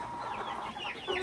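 Chickens cluck in a farmyard, several hens overlapping in a dense, continuous chorus of short calls close by.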